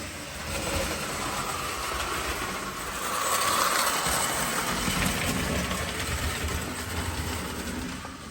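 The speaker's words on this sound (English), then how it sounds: "You can definitely hear that the motor's a little dry." A Lionel toy train engine with a dry motor runs continuously, a steady whirring, grinding mechanical drone with a faint rattle, swelling slightly louder midway.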